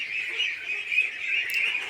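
Young ducks peep and call in a continuous high-pitched chorus, moderately loud and close, with no talking.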